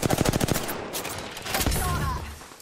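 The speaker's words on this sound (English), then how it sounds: "Taking fire." Rapid bursts of automatic gunfire from an Apex Legends firefight, a quick rhythmic string of shots up front followed by scattered impacts and game effects, fairly loud and close with no talk.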